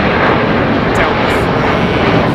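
Aircraft engine at London Heathrow Airport, a loud, dense and constant roar filling the whole short stretch without pause.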